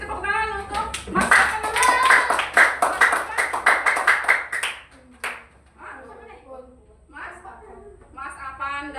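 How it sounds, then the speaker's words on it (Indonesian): A group claps for someone at an Indonesian training session, a burst of dense, sharp handclaps lasting a few seconds under a speaker's voice, then fading as the talking carries on. "terima kasih tepuk tangan untuk Mas"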